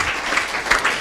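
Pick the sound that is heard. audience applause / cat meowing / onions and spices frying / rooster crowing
audience applause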